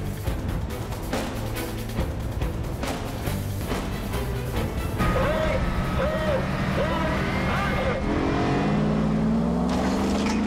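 A 2.5-ton stunt car drives at speed on a film set, its engine droning under talk, then rising into a loud, climbing rev near the end.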